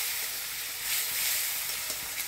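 Onions and green chillies fry in fish oil in a pan, giving a steady soft sizzle and hiss with a few light stirring clicks, close and alone.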